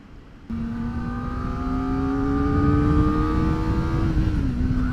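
A 2024 Kawasaki ZX-4RR's engine kicks in abruptly and climbs in a long, smooth, high-pitched rev, loud and close, then eases off slightly at the end; no voices.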